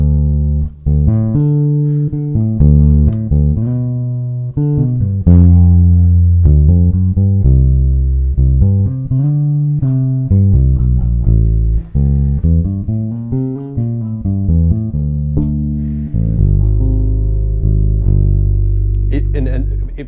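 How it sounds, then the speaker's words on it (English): Electric bass with its tone control rolled fully off, giving a dark, muffled sound as it plays a long, close melodic phrase of sustained and sliding notes, heard alone without talk. "I'd actually roll the tone control right off."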